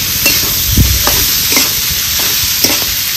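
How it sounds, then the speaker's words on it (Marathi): Cucumber bhaji stir-fried in a pan, loud close scraping spatula strokes over a bright continuous sizzle, several uneven stirs in quick succession with no voices. "आता सगळीकडून परतून मी एकजीव करून घेतला."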